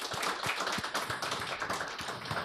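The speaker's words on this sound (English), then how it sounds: "please welcome me in finally giving a fantastic round of applause for Jack Pelton" Audience applause for Jack Pelton, CEO of EAA, at an Oshkosh Chamber of Commerce event, a brief patter of clapping from a small crowd, fairly close and steady.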